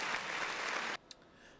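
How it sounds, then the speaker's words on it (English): Dense burst of many hands clapping in the video game No, I'm Not A Human, loud and steady for about a second before cutting off abruptly, followed by one faint click. "Hear the hand claps."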